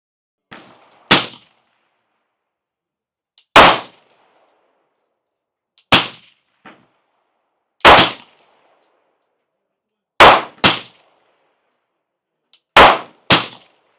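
Rifle live fire through a KAC QDC/CQB-PRG suppressor, loud sharp reports spaced a couple of seconds apart, some as quick doubles, each with a short ringing tail, outdoors and alone.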